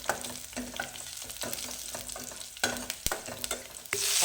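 Finely chopped garlic sautés in a pan, a close, steady sizzle broken by regular spatula scrapes and taps, with a brighter hiss rising at the very end.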